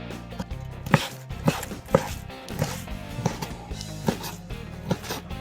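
A knife chops steadily on a cutting board, crisp irregular knocks in quick succession, close and clear against a quiet kitchen background.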